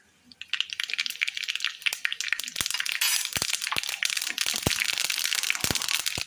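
Dense, rapid crackling and popping of mustard seeds spluttering in hot oil, continuous sharp pops close up with no talking.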